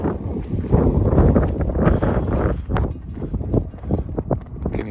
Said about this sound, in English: Well, it's definitely come a snowstorm.